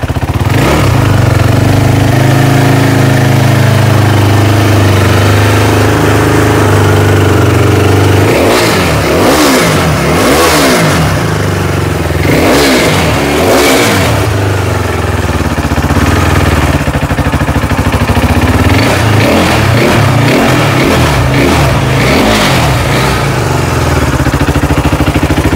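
A 2017 second-hand motorcycle engine idles loudly up close, then revs repeatedly in several quick throttle bursts before settling back to a steady idle.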